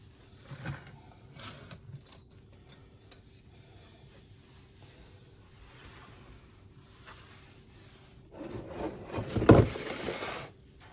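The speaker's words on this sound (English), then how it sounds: "As I go, I'm wiping the appliances off." Kitchen appliances being wiped clean with a cloth: soft, intermittent rubbing and light handling noises, with a louder, closer scrubbing burst near the end, no talking.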